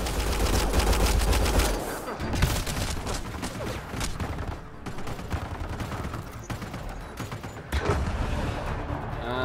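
Heavy gunfire in the video game Mass Effect Andromeda, dense bursts of automatic fire and loud blasts, dipping briefly before rising again near the end.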